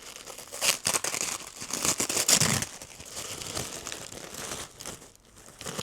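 Blue wrapping paper crinkles and rips in quick, uneven bursts close by, as it is torn and crumpled open.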